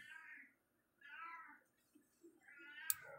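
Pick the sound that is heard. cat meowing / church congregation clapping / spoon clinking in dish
cat meowing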